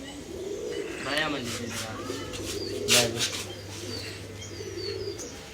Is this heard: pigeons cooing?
yes